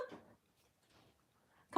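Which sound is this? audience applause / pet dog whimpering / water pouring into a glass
pet dog whimpering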